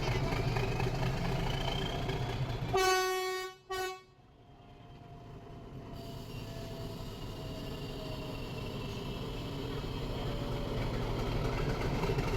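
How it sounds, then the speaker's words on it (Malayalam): Ooty toy train starting off, with a loud harmonic horn toot cut by a brief break, then a steady low engine rumble building gradually, heard from nearby without talk. "അങ്ങനെ നമ്മുടെ ടോയ് ട്രെയിൻ സ്റ്റാർട്ട് ചെയ്തു."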